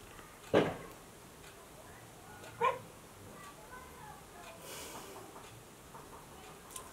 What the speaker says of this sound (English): Oh, and that's my dog.